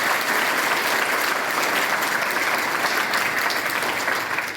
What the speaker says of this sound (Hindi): अटक में स्पेशल अफराद के लिए सजी महफिल आयशा की तकरीर पर तालियों से गूंज उठी